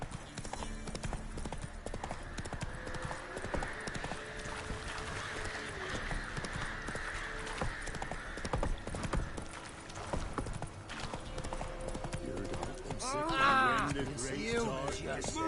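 Horse hooves clip-clop in a steady trotting rhythm at moderate distance, with voices talking over the hoofbeats and a brief whinny-like sound near the end.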